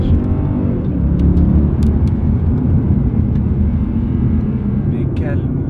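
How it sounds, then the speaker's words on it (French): A 13-year-old Mercedes CLK Black Series drives off-road on a snowy mountain pass, its engine giving a loud, steady low roar and rumble heard from inside the car. The drone is continuous and close, and voices can be heard over it. "Mais quel monstre, quel bruit de cette voiture."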